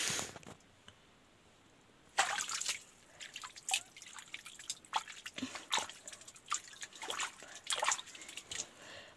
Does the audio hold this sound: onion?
no